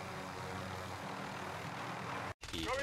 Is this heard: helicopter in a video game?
yes